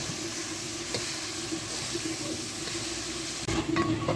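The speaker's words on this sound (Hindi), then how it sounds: "कीमे का कलर चेंज होने तक अच्छी तरह से भूनेंगे।" Minced meat (keema) frying in a pan: a steady, broad sizzle runs throughout at moderate loudness, with a faint scrape or stir near the end and no talk.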